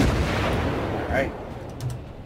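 Naval guns firing in World of Warships, a loud booming salvo at the start that rumbles and fades, followed by a few fainter distant reports.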